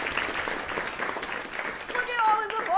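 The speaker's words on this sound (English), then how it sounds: "Look at all this applause." Audience applause following a trumpet performance at a masterclass, a steady wash of clapping that stays fairly loud throughout, with some voices speaking over it near the end.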